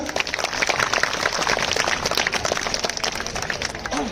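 Audience at a school annual day celebration applauding steadily, a dense continuous wash of many hands clapping throughout, fairly loud and close with no pause.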